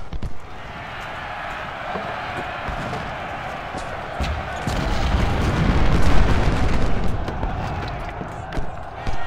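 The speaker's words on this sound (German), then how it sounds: "Feuerkanone" Cannon fire in the Civil War battle game Ultimate General: Civil War, heavy low booms rolling under continuous battlefield din, swelling louder in the middle of the stretch.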